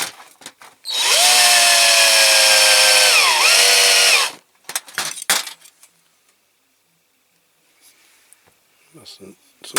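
A handheld electric drill whirs loudly and steadily for about three seconds, dipping in pitch midway as it loads up, during a restoration of a Dinky Toys Leyland Octopus model truck; brief clatter and soft handling noises follow.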